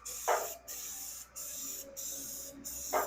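A paint spray gun hisses in several steady bursts while painting a car bumper, each lasting under a second with brief pauses between, fairly close and loud.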